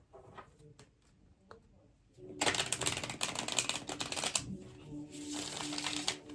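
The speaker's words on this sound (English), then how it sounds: "I might just give the cards one last shuffle" A few soft ticks, then bursts of cards being riffled and shuffled up close, in two rapid flurries.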